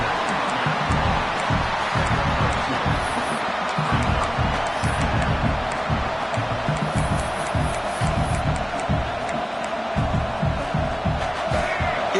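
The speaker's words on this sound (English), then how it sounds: "this crowd is fired up. Listen to this noise here." A fired-up football stadium crowd produces a loud, sustained roar, with scattered whoops and shouts rising over the dense noise for the whole stretch.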